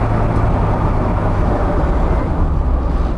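A turbocharged Mini 1000 cafe racer drives at speed, its engine and road noise forming a loud, dense, continuous roar heard from inside the car, with no voices.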